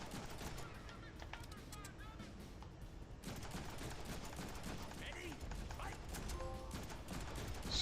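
Pistol shots and other gunfire crackle in the Deadpool video game as rapid bursts at moderate level among busy game sounds. Voices talk over the action.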